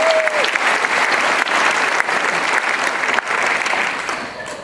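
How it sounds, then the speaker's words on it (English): Full audience applause at a university graduation recognition ceremony for a plant science school, dense and sustained with a brief voice at the start, tapering slightly at the end. "a round of applause for Chris, our director of the school."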